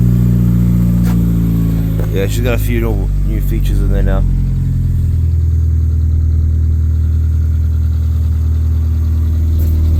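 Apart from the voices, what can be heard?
car engine starting and idling on a cold morning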